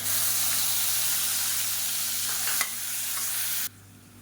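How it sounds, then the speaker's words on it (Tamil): Ground shallot paste hitting hot oil in a pan while cooking cauliflower chops, a loud steady sizzle and hiss with a few stirring clicks, cutting off sharply near the end. "10 சின்ன வெங்காயம் மிக்சியில் போட்டு அரைச்சி வச்சுருக்கேன், அதை சேர்த்துக்கலாம்"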